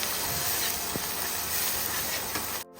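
Sizzling and hissing of spices with asafoetida sautéing in a hot pan for sambar, a steady broadband crackle that cuts off abruptly at the end.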